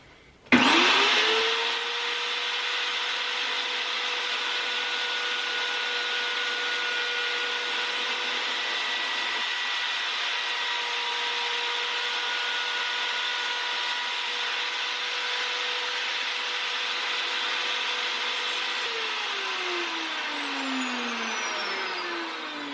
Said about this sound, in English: I've made a temporary jig for my router using a 608 skateboard bearing so I can trim it to the same width all the way round.